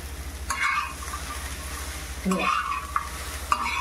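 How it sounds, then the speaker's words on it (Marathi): Okra dry-roasts on a lightly oiled griddle pan, stirred in a few distinct scraping strokes over a soft continuous sizzle, close and fairly quiet. "ती भेंडी आपल्याला भाजायची आहे थोडी"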